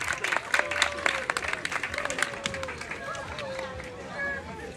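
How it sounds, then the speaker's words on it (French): Audience applause for a fire safety instructor after a fire extinguisher demonstration, a burst of scattered clapping mixed with crowd noise while voices talk and call out over it. "On applaudit pour lui."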